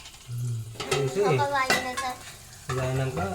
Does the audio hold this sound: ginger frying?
yes